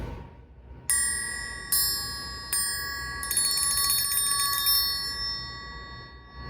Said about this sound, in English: This instrument is the triangle.